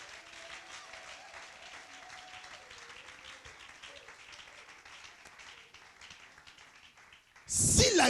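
A church congregation claps steadily in a soft, continuous patter with faint voices under it, followed by a sudden loud burst of noise at the very end.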